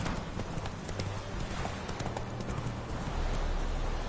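Roach the horse galloping in The Witcher video game, rapid rhythmic hoofbeats drumming steadily and close, with a voice briefly talking over them.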